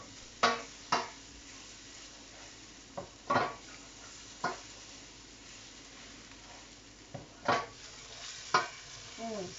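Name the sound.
salmon frying in a pan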